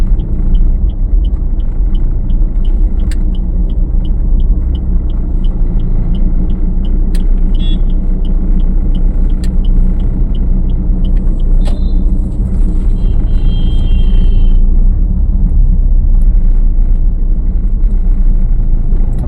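A learner drives a car during a driving lesson, heard from inside the cabin as a steady low engine and road rumble, with a faint regular ticking above it throughout.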